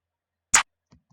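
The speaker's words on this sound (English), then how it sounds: "This jigsaw clap and this draw clap." Two layered clap samples from a music beat sound once as a single sharp, bright clap, followed by faint soft ticks, with no talking.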